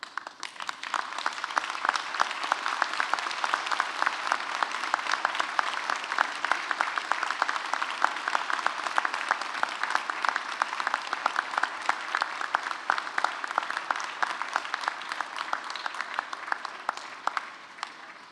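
Graduates at a Western University spring convocation applaud their relatives and friends: dense, steady clapping from a large seated crowd fills a big hall, sustained at an even level for the whole stretch with no speech over it.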